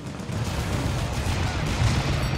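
Turret gunfire in BioShock Infinite, a continuous rattling barrage of rapid shots with a low rumble underneath, steady and moderately loud throughout.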